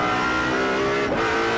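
GT race cars, a Ferrari and a BMW, racing on the Navarra circuit in Spain during a Blancpain Endurance event, engines droning loud and steady with a layered, continuous roar throughout.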